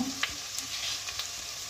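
Half an onion dropped into hot oil in a pan while cooking chicken yakhni pulao, a steady bright sizzle with a few small crackles and stirring clicks, close and continuous with no talking.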